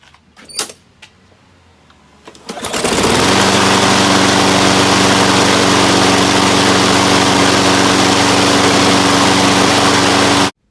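A lawn mower fitted with a new 22-inch blade is started after a few clicks and knocks, then runs loud and steady with a close, constant engine drone.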